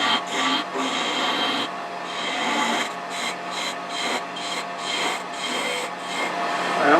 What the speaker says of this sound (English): I'm going to use a skew to round this off